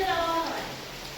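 Heavy rain pours down in a village during flood-like weather, making a steady wash of hiss. A voice is briefly heard at the start.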